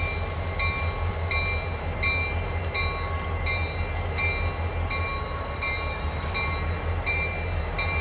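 An eastbound CSX freight of loaded autoracks, led by two SD40 locomotives with helper engines, rolls past in a steady, loud rumble, with faint repeating metallic tones above the roar throughout.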